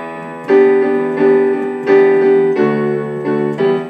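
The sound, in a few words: piano chord with G on top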